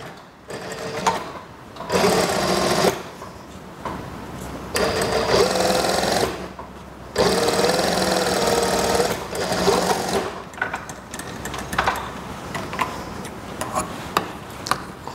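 A sewing machine stitches an elastic-waist skirt in loud rapid bursts of rhythmic whirring, stopping and restarting several times with brief quiet gaps between runs.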